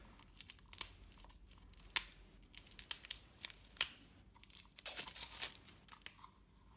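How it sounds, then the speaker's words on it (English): Scissors snip through ribbon while a gift box is being finished, a string of close, crisp cuts with rustling paper and crinkling between them, and no voice. "I'm going to cut a bit of ribbon"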